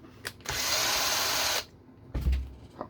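A power drill drives screws into an RC car transmission on a Losi 22S, one loud sustained whir for about a second, preceded by a click and followed by a short second burst.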